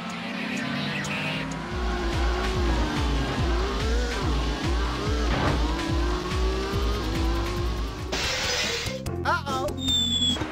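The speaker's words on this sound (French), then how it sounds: "premier simulateur de course automobile Gran Turismo. Avec plusieurs vues disponibles de l'intérieur et de l'extérieur de la voiture." A race car in the original Gran Turismo racing game revs loudly through repeated gear shifts, followed by tire squeals and skidding near the end, with a voice talking over it.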